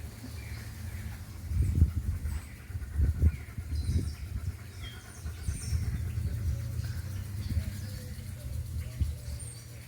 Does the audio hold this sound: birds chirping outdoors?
yes